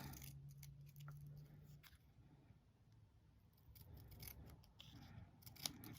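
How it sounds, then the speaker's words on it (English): Scissors snipping out a paper pattern piece along the drawn lines, a quiet series of close, irregular crisp cuts and rustles, with no talking. "I'm just going to go ahead and start by cutting this out around the lines"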